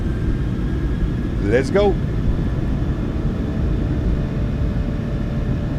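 Roaring jet engines of a PMDG 737-800 spooling to takeoff power in Microsoft Flight Simulator 2024, a steady broadband rumble throughout with a brief whine sweep, and a voice briefly speaking over it.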